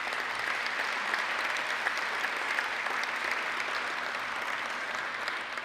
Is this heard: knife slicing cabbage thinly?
no